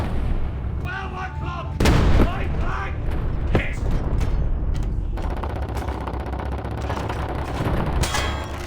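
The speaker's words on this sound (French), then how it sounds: "La touche entourée permet de tirer avec les mitrailleuses." Machine-gun and cannon fire from a tank in War Thunder Mobile: loud sustained bursts of gunfire with heavy booms, dense and continuous throughout, with a strong impact about a quarter of the way in.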